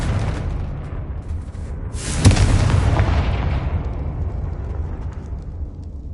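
A Confringo spell explosion in the Hogwarts Legacy video game: a loud, deep booming blast with a sharp burst at the start, then a sustained rumbling roar that slowly fades.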